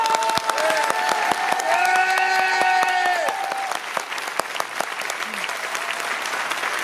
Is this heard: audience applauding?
yes